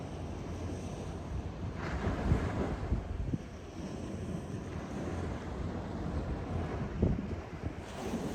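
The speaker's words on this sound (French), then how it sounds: "Avec un petit peu des rafales de vent" Gusty wind buffets the microphone by the sea at Vias Beach, France, in February, with steady low rumble and surf-like wash, swelling in stronger bursts a few times.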